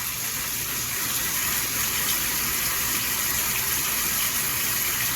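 Tap water runs steadily and close throughout while hands are washed at a sink, a continuous broadband gush with no talking.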